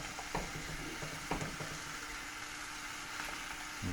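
Pho bones frying in a pot, a soft steady sizzle with a few faint clinks and scrapes, quiet throughout.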